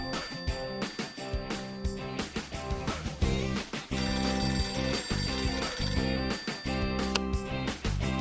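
Ringing in a children's Robocar robot repair game comes as repeated bell-like chimes against busy, bright music, a steady, moderately loud pattern throughout.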